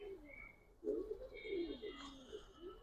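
Old-breed Bagha pigeons coo in a loft, with soft, low, rolling calls repeating close by at a quiet level.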